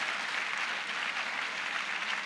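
Audience applause fills a school hall after a students' drama performance, a steady, dense wash of clapping with no talk over it.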